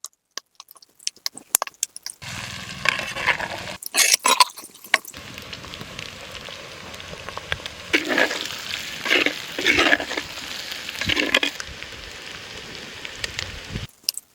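Shredded country chicken frying in oil for a varuval: a steady soft sizzle with bursts of crackling and the scrape of stirring, fairly close and without talking.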